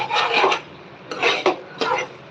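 A spatula scrapes and rasps against a pan while masala spices are roasted for a fish dish, in three close, steady bursts of stirring with short pauses between and no talking.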